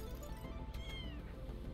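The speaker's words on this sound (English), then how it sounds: "Cat!" In the ANNO: Mutationem game, a cat gives a couple of short, rising meows over a steady bed of background music and ambience, faint and brief.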